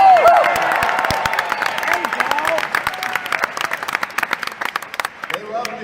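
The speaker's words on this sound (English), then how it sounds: "everywhere we go, the guy gets huge applause" Crowd at a large lecture-tour event breaks into applause with scattered whoops and cheers, sharp claps standing out against a voice talking over it.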